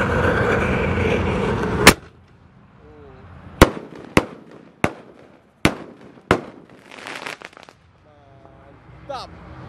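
A series of sharp, loud Roman candle firework bangs fire one after another outdoors, evenly spaced with short crackling tails, after an opening rush of noise.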